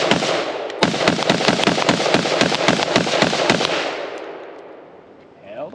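A Steyr AUG carbine fires a rapid string of about fifteen sharp, loud gunshots in quick succession outdoors, then the echo fades into quiet.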